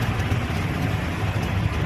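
An auto rickshaw's small engine idles steadily close by in traffic, a continuous rough, rumbling drone with no voices.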